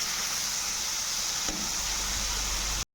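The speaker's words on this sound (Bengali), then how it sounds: "দিয়ে মশলাটাকে ভালো করে কষিয়ে নেব পটলের সঙ্গে।" Spice paste of ginger, green chilli and cumin with chopped tomato fries in oil alongside pointed gourd, giving a steady, loud, even hiss of sizzling that runs without a break before cutting off abruptly at the end.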